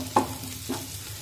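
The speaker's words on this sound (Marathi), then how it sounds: "आता हे सर्व मसाले आपण तेलामध्ये व्यवस्थित परतून घेऊया।" Spices are stir-fried in oil for a moong dal and onion dish, with soft sizzling beneath two distinct scraping strokes of a spoon against the pan, close and fairly quiet, and no voices.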